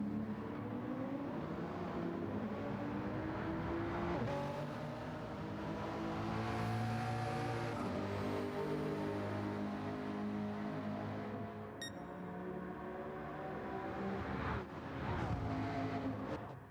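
Race cars in Gran Turismo 7 drive in a steady, continuous engine drone with shifting revs. The engines rise and fall as cars brake and turn in through a corner, and the sound runs loud and sustained throughout.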